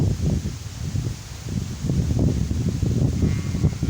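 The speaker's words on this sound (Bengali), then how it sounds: "আজকে অনেক বাতাস না অনেক বাতাস দেখেন" Strong wind sweeps across an open river sandbar and buffets the microphone with a continuous, loud, low rumble that rises and falls slightly. No one speaks.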